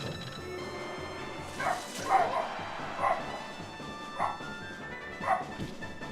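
A dog barks in short yips and woofs, four or five separate bursts spread out over a few seconds, fairly close, over a quiet background of game music.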